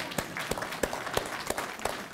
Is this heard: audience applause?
yes